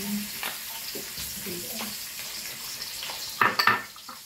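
Onions dropped into hot oil in a pan sizzle softly, with scattered clinks and scrapes and a louder clatter near the end.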